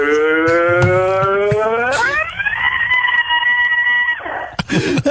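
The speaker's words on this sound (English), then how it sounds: "Do a rock scream from the elevator." A man lets out a sustained, strained rock-style scream while stuck in an elevator, a loud harmonic wail that drops in pitch partway through before breaking off into rough vocal noise.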